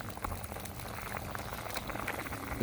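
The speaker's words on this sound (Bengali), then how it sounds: "সবজিটি বলক এসেছে" A vegetable curry with data stalks and potol bubbles at a steady boil in a covered pot, a soft continuous simmer with scattered pops and gurgles, close by and fairly quiet.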